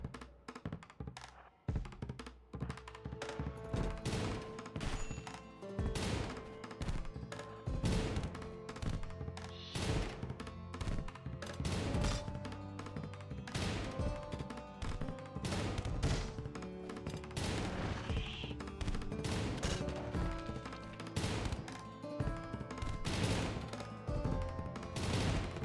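A machine pistol fires in RimWorld, with repeated sharp bursts and single shots scattered through a tense fight, loud and close throughout with no voices.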